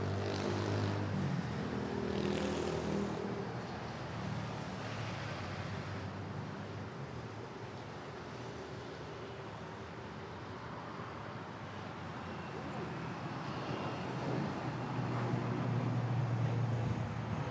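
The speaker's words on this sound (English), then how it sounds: "ATR 72 off to Busuanga." An ATR 72 turboprop airliner rolls for takeoff at Manila airport, a broad, steady engine roar heard from a distance that swells toward the end.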